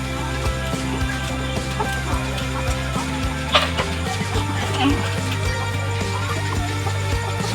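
Chickens in a backyard coop, including a Splash cross with Brahma blood, cluck and chatter continuously at close range, with scattered soft bird calls and faint background noise.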